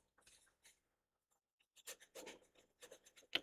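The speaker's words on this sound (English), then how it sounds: "Y'all can hear like the paper like." A pencil scratches across paper, caught up close by a sensitive microphone: faint, quiet bursts of rubbing strokes separated by short pauses of near silence.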